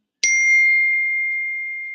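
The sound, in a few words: phone text message notification ding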